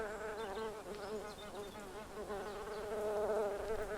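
A worker bee buzzes at a prickly pear flower, its steady, close, droning hum wavering slightly in pitch as it moves, with no other sounds.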